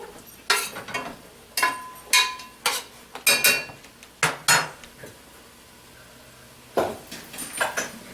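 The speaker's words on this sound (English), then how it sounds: "So just stirring to make sure that the chicken is getting fully cooked" A utensil stirs chicken and peppers in a metal pan, scraping and clanking in irregular bursts with quiet gaps between, close and clear, with faint sizzling underneath.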